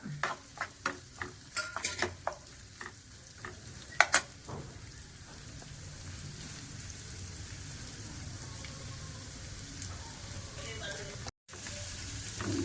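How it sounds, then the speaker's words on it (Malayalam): Chopped, sautéed onions tipped into a pan for a breakfast dish start a steady close sizzle, opening with a run of clattering stirring taps before settling into continuous frying hiss. "ഈ ഉള്ളി അരിഞ്ഞ് വഴറ്റി, അതും കൂടി ഇടാം"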